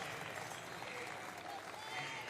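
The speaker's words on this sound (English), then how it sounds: "Round of applause for Patrick." An audience claps for a powerlifter at the 2019 Department of Defense Warrior Games, a steady, somewhat distant patter of hands in a large hall, with faint voices mixed in.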